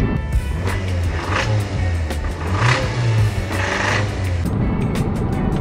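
A Porsche 987 Boxster engine runs steadily up close with a faint tapping noise, its low drone holding constant over a broad wash of mechanical hiss.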